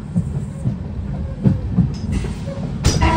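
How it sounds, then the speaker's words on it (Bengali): The inaugural Humsafar Express rolls through Murshidabad Junction, its wheels clattering steadily over rail joints with occasional sharp squeals and clanks. The sound is heard from on board and stays at an even, moderate loudness. "ট্রেন পার করছে এই মুহূর্তে মুর্শিদাবাদ, যা জংশন নামে পরিচিত"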